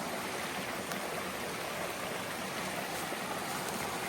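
Steady, broadband rush of a mountain brook flowing, constant and fairly close, with no voices or other distinct sounds over it.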